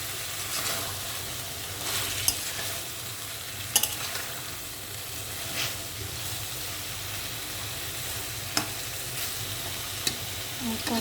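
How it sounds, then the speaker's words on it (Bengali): Pointed gourd and potato pieces being sautéed with spices for a fish curry give a continuous close sizzle, with occasional sharp clicks and taps of a spatula against the pan. "মশলা দিয়ে পটল আর আলু কষাই নিচ্ছি"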